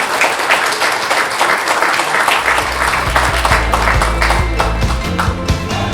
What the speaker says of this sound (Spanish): Fuerte las palmas nuevamente, por favor.